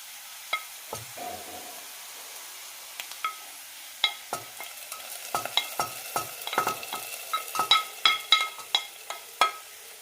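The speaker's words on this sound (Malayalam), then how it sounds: "സവാള നന്നായി ചോക്കുന്നവരെ വറുത്തെടുക്കണം." Onions frying in a pan until browned for a curry tempering, giving a steady soft sizzle under a run of sharp scraping and stirring clacks that grow busier toward the end, with no talking.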